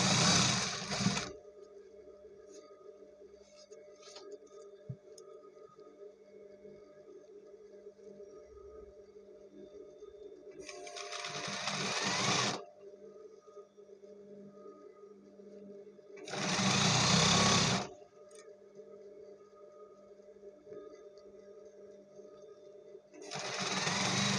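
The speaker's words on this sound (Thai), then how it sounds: "เย็บย้ำจุดเริ่มต้น" A sewing machine stitching elastic onto fabric runs in three loud, close bursts of rapid whirring, each lasting a couple of seconds, separated by long stretches of quiet background hum.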